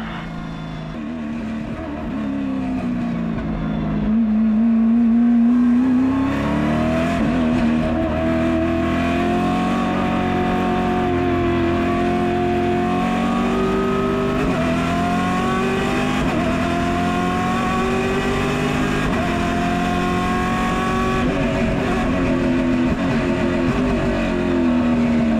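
Stock Car race car engine at Velopark RS revving and climbing through gears, a loud continuous drone rising in pitch, dropping at each shift and climbing again, heard close with no talk.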